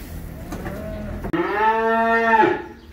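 A cow lets out a long, loud moo close by, following a quieter, more distant low call against barn noise, as calves are weaned off the cows.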